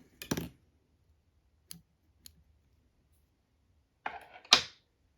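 Small scissors snip fly-tying thread at the hook while a San Juan Worm variant fly is tied, making two crisp, close clicks seconds apart with a few faint ticks between them in a quiet room.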